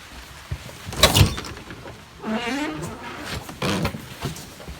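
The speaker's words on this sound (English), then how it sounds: "So I'm going to open up the door." A door clunks and rattles open with a sharp knock, followed by a squeaky hinge-like sweep and a second bump, fairly close in a quiet room.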